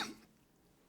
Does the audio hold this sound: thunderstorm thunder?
no